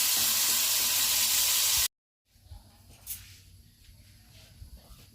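Prawns fry lightly in oil in a kadai for Bengali kochubata chingri, with a loud, dense sizzling hiss for about two seconds. It cuts off abruptly, and a much quieter, sparse stretch follows.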